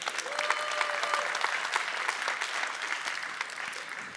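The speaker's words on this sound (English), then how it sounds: "ask you to give a round of applause to yourselves" An audience at a crypto talk claps in a dense, sustained burst, many hands together at fairly close range, with a faint tone or whistle briefly threading through early on and no speech.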